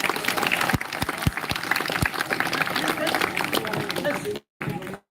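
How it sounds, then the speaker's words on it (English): Sustained applause from a crowd at a Krishna Janmashtami celebration, dense and close with a few sharper claps early on, before it breaks off abruptly near the end. "can we have a big round of applause for all of them?"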